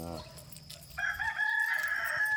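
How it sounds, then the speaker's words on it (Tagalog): A rooster crows nearby, a long rising-and-held call starting after a brief low sound, fairly clear against quiet background. "Nilaok na yung ating tandang"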